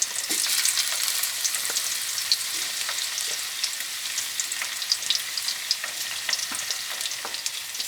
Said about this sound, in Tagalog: At dito niya pinrito yung dalawang pork chop para mabilis ang luto.